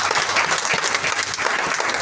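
Audience applause at a sales training seminar, steady dense clapping from a crowd filling the whole stretch without pause.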